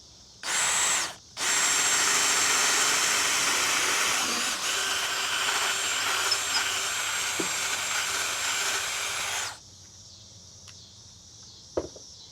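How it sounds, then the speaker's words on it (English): A power drill bores a starter hole inside a marked circle for a jigsaw, whirring in a brief burst, then running steadily for several seconds before stopping, close and loud, followed by a quiet hum and a small knock. "we're gonna drill inside the circle"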